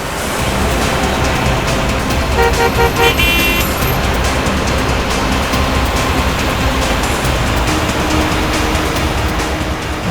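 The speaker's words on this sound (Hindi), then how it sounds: "ट्रैफिक बहुत है" Dense, loud city road traffic fills the whole stretch while a car horn honks in a short series of toots near the middle, with no talk over the steady roar of engines.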